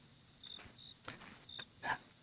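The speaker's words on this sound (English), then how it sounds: "some creatures in the forest. I hear crickets" Crickets chirp in a video game forest at night: a faint, steady high insect trill with a few soft brief chirps and rustles over quiet ambience.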